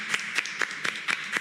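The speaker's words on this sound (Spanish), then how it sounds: "Un aplauso grande para Carlos Heller." A small studio audience claps for guest Carlos Heller at the close of a football and politics talk show, with sharp, evenly spaced claps close by and no talk.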